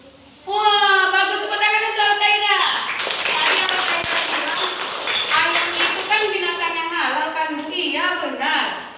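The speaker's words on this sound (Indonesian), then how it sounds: "Tepuk tangan untuk Al-Qaeda" Children in a classroom clap their hands together in a quick burst of rhythmic claps, mixed with excited young voices talking and chanting over it.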